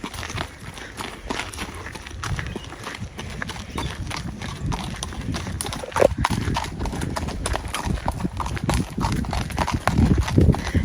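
Two fully shod thoroughbred performance horses walk on a steep hill away from the arena, hooves clip-clopping in a steady, uneven rhythm at close range, with faint background noise throughout.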